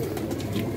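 A red-eyed pigeon coos softly in a short, low burbling call, close by and fairly quiet.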